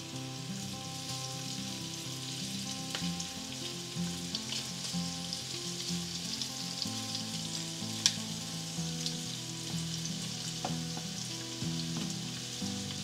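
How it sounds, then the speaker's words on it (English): Prawns searing in oil in a hot skillet for Goan prawn balchao, an even, busy crackling sizzle lasting the full length, close and unbroken apart from one sharp tap midway, with no one speaking. "now we're going to put in 1/2 the quantity of the prawns into the pan. I want to make sure that all of them touch the pan so you get a good sear."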